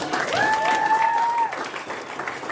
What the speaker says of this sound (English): How about a round of applause for the Labeckis?